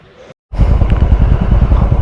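Motorcycle engines start up and idle loudly and close by on a bike ride near Kasauli, Himachal Pradesh, a rough, pulsing rumble that kicks in after a brief silence and holds steady.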